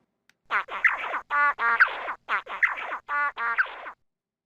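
Slowed-down zebra finch song: two repeated phrases of buzzy, harmonic-stacked syllables and clicks, rhythmic and percussive, clear and close with no background.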